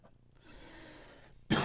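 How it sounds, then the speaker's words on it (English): A single short, sharp cough from a woman bursts out near the end after a stretch of quiet room tone. "Sorry about that. A little cough there."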